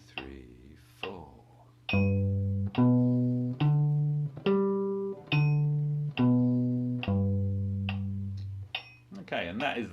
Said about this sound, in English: that is the sound of a major arpeggio